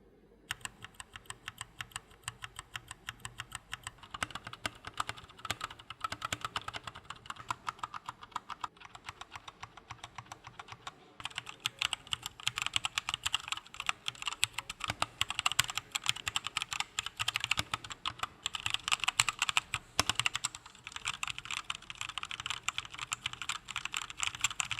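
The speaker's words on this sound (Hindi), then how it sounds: "ऐसा कीबोर्ड मार्केट में नहीं था जो इस प्राइस के अंदर आपको ब्राउन स्विच के मजे भी दिलाए।" Typing on an Ant Esports MK1300 V2 mechanical keyboard with brown switches: a steady, close patter of key clacks running for the whole stretch, busier and slightly louder in the second half, with no voices.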